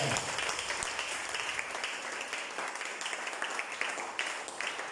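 A church congregation applauds the Lord with steady, sustained clapping that fills the room evenly, a continuous patter with no pause.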